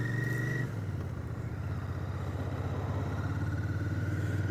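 A new Royal Enfield Bear 650 motorcycle pulls away on its first day, its twin engine chugging steadily at low revs with a brief higher tone at the start, close and continuous.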